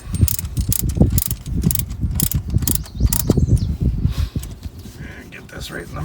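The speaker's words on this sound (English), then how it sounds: "you could just flip it over and use your ratchet down here" A ratchet strap being tightened near a tire at a campsite gives a rapid series of sharp mechanical clicks and clunks in bursts, close and fairly loud, easing off toward the end.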